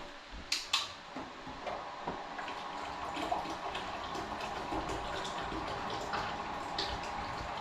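Water is poured into a container to fill it for heating, a steady splashing flow with a few clinks at the start, moderately close, with no talking.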